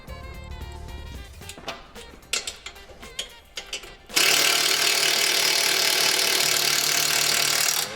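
A power tool gun runs a bolt through a GY6 150cc engine mount on a Honda Ruckus, with scattered ratcheting clicks and clanks at first, then a loud, continuous close-up whir that runs steadily to the end.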